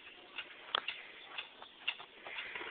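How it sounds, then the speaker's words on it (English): Faint, irregular ticking from an unseen source, small light clicks spaced unevenly over a soft hiss, quiet and close with no voices. "What is that mysterious ticking noise?"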